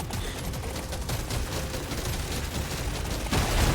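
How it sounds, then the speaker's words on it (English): Rapid continuous minigun fire in the game Deep Rock Galactic Survivor, a dense, loud stream of shots that intensifies near the end. "the piercing shot minigun is really amazing at killing swarms"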